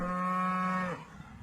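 A single cow lets out one close, sustained moo that drops off abruptly at the end.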